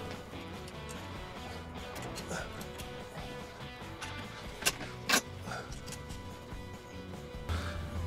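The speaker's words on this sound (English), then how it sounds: "put on a socket on the other side, and just tighten them up" A socket wrench ratchets to tighten nuts while fitting a sissy bar to a Yamaha V-Star 650 motorcycle: busy clicking and metallic mechanism noise throughout, with two sharp clanks midway.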